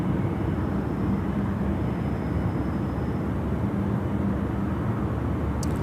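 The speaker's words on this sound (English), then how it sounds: "AirAsia, the 330 is coming out to play. This is a 330-300 series aircraft." An AirAsia Airbus A330-300 at Sydney Airport, heard as a steady distant jet rumble and roar, constant and moderately loud with no voices over it.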